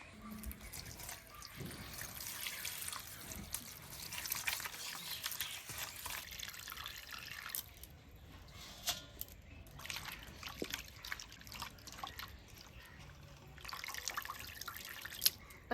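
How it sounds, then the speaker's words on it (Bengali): Gourd leaves are rinsed under water in a kitchen, giving a soft, continuous splash and trickle with scattered drips and light handling noises, fairly faint and close, with nobody talking. "ভালো করে জল দিয়ে ধুয়ে নিই"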